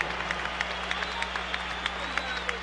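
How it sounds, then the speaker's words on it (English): Crowd applause and cheering at an Atlantic City heavyweight boxing match, a broad wash of clapping under a ringside announcer's voice, with sharp claps popping out above the steady roar. "let's have a round of applause for these two heavyweights"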